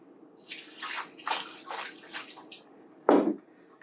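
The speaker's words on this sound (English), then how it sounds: "And add a little bit of water." Water poured and splashing into a blender-style drink mixture of mango, honey and ice, a run of soft gurgling splashes ending in one louder plop, quiet and close.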